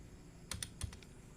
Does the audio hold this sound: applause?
no